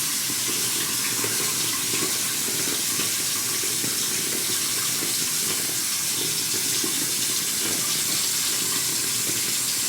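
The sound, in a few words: water running from tap while rinsing face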